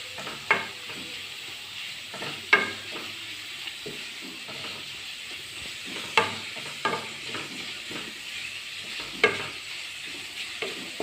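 Pappadam and potato pieces frying in coconut oil, a steady bubbling sizzle with several sharp pops and stirring clatters spread through the clip, close by and with no talking.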